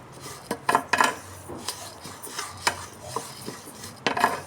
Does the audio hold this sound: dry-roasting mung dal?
yes